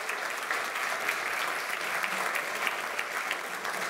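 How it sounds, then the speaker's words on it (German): Audience applause at a teachers' AI summit, a dense steady patter of many hands clapping at moderate distance, even and unbroken from start to finish. "Also das wäre mal wirklich ein Applaus."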